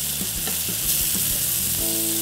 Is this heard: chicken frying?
yes